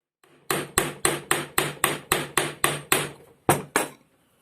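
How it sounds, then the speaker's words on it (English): Ball peen hammer striking the steel blade of a handmade hunting knife, about a dozen sharp ringing blows in quick even rhythm, close and loud, with a short pause before the final two hits. "once we've added the ball peen marks. So, let's get started with that."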